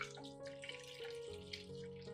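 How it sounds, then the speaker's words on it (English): Onion solution pours into a spray bottle in a steady trickle, a soft continuous splash and gurgle heard close and quietly, with no talking. "I will pour the onion solution into a specialized spray bottle."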